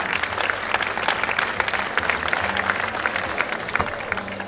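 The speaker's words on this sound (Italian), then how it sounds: "mandiamo un pensiero e un applauso" An audience at the chili-eating world championship event in Diamante breaks into applause, a dense, steady clapping with scattered sharper claps throughout, sustained for the whole stretch without talk.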